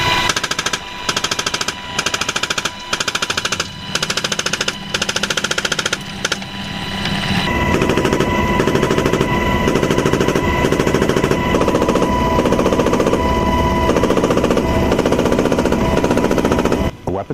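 A US Army door-mounted machine gun fires live from a helicopter of the 147th Assault Helicopter Battalion, first in short rhythmic bursts, then a long sustained loud roar of rapid shots over the rotor drone.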